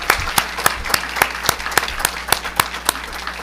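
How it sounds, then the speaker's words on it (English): A round of applause for staff at a meeting, with steady, evenly spaced claps that ring out sharply over a softer bed of crowd clapping for several seconds. "let's give everybody one last good round of applause to our staff."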